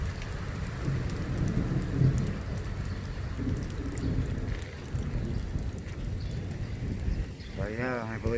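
Steady rain pours down during a severe thunderstorm, a dense continuous wash of noise with low rumbling underneath and a brief voice near the end.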